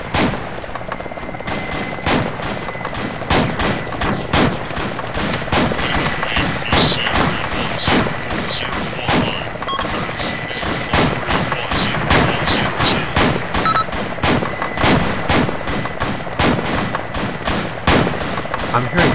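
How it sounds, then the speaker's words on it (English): Rapid bursts of video game gunfire crack again and again, loud and close, forming a near-continuous barrage with a voice occasionally underneath. "I'm hearing gunfire right here."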